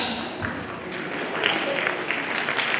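Audience applause at a school annual function, a moderate burst of clapping that swells slightly toward the end, fairly close and unaccompanied by talk.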